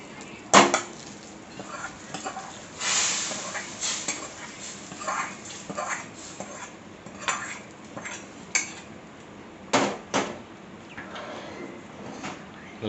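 Drumstick sambar simmering at a boil in a pot as more ingredients go in and a spoon stirs it, with a series of sharp metal scrapes and clinks against the pot between quieter stretches.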